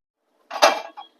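A metal kadai pan is set down on a stove while making egg gravy, a single short clank followed by a lighter rattle, close and alone in otherwise quiet surroundings.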